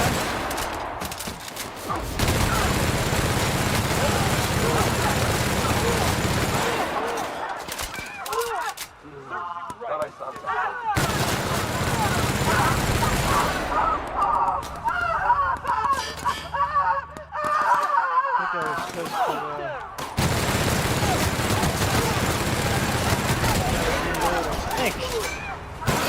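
Bursts of gunfire in the video game The Outer Worlds come in loud clustered volleys with short quiet gaps between them. Honking, goose-like sounds and talking overlap the shots.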